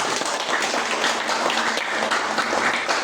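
Audience applause after a classroom presentation: steady, dense clapping from a group of listeners fills the full three seconds at an even, moderately loud level.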